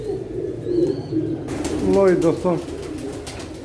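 Pigeons on a rooftop, with a mother pigeon sitting near her chick, give soft cooing calls that rise and fall in the middle of the stretch. Someone talks briefly at the start, and a steady low hum of background noise runs throughout.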